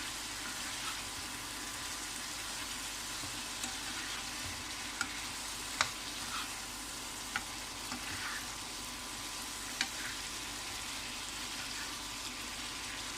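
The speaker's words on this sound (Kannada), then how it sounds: "ಈಗ ಹಾಕಿದ ನಂತರ ಮಿಕ್ಸ್ ಮಾಡ್ಕೋಬೇಕು ಚೆನ್ನಾಗಿ" Chicken masala fry sizzles in a pan with a steady hiss while being stirred, with a few faint clinks of a spoon against the pan, no talking.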